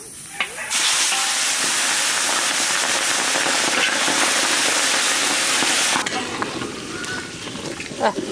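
Pieces of katla fish hitting hot oil in a village kitchen, a loud sustained crackling sizzle that bursts in abruptly and holds for several seconds before easing off.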